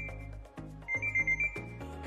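Smart sunglasses play their locator sound, a run of bright electronic ringing chirps in quick pulses that is clean and alone.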